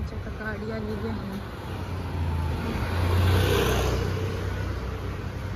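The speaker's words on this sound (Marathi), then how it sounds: "आमच्या आता गाडी आलेली आहे." A car arrives along a morning road with light traffic. Its engine rumble swells to a peak midway through and then holds steady, close and fairly loud over a general road hum.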